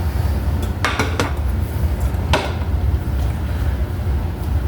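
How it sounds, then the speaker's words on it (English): A frying pan is taken out and handled in a home kitchen while breakfast is made. A few sharp metallic clanks and clinks rise over a steady low background hum. "Get the pan."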